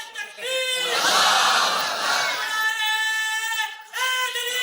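Young audience members chant and cheer in a loud collective roar that swells and holds for a couple of seconds, framed by a man's sustained, tonal voice at the start and end.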